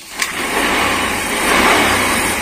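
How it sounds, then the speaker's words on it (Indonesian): Honda Vario motorcycle engine running steadily after a kick-start, a continuous mid-pitched hum close by with a brief sharp click near the start and no speech. "Tidak lebih dari 5 detik motor sudah hidup."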